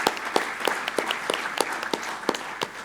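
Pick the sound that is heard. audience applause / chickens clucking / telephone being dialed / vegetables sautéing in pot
audience applause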